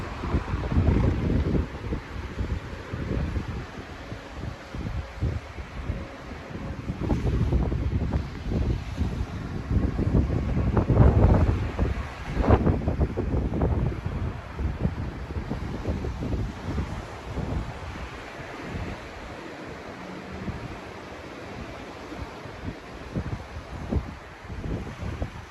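Sea waves on a sandy beach in Hokkaido with wind, a continuous rushing wash of surf and buffeting wind noise on the microphone, loudest in the middle and easing toward the end, with no voices.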